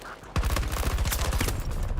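Rapid automatic gunfire in a video game, a loud fast burst of rattling shots that follows a brief lull and keeps going without pause, close up and with no talking.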